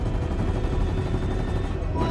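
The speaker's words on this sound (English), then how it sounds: "I'm shooting." Rapid gunfire in Fortnite during a live in-game event, quick repeated shots rattling in a steady rhythm throughout, with a voice partly audible over the shooting.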